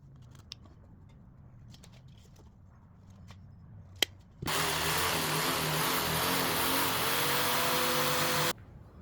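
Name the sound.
power tool cutting out speaker driver opening in wood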